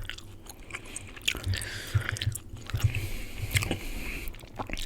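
Close, wet chewing of Big League Chew bubble gum, with soft squishing and smacking mouth sounds in an irregular rhythm, alone and without talk.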